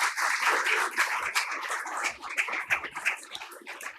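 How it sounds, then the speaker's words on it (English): An audience applauds at a corporate social responsibility fireside chat in India, a steady round of hand clapping from a sizable crowd for about four seconds, fading toward the end. "big round of applause for Dr."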